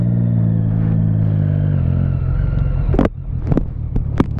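A Yamaha XT motorcycle rides by on the road, its engine a steady rumble mixed with car traffic, with a few sharper clattering bursts toward the end.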